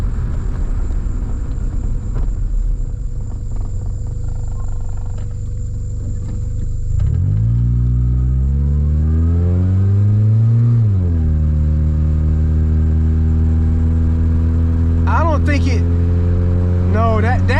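A 1993 Honda Accord engine runs loud and steady, then revs rise and fall through a gear change, with a voice briefly heard near the end.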